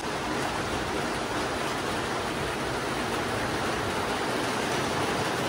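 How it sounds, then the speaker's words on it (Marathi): Heavy rain pours down outside a home in a dense, even roar of broadband hiss that holds steady and loud throughout, with no voices over it. "आणि बघा आता किती जोरात पाऊस चालू झाला"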